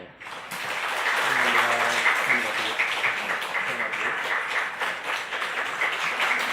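A church congregation in Osaka bursts into applause that swells within the first second and holds as a thick, sustained clapping, while a speaking voice is heard at the start under the claps.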